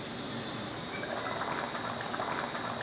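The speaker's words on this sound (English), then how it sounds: "it's back to a rolling boil" Thai green chicken curry with vegetables bubbling at a rolling boil in a pot on a home stove, a steady, close churning and gurgling that holds evenly throughout with no voices.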